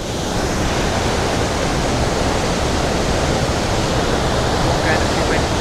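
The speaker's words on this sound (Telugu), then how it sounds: "ఆ ప్రవాహం అయితే చూడండి ఎలా ఉందో డెవిస్ వాటర్ ఫాలు" Devi's Falls in Pokhara, Nepal roars as a loud, dense, continuous rush of falling water, close and unbroken for the whole stretch.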